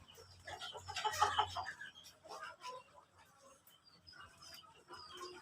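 Free-range village chickens on a small farm cluck and call nearby, a burst of louder clucking early then scattered softer calls, with someone speaking in between.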